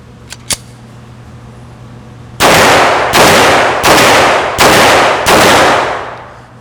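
Five loud, close gunshots from a Glock G32 pistol at a shooting range, fired in an even sequence after a couple of faint clicks, each blast ringing briefly.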